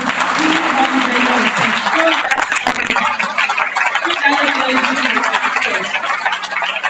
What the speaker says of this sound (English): you keep clapping like this